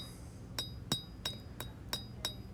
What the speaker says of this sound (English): I can strike the bevel, or strike the steel, and pull the steel down toward the edge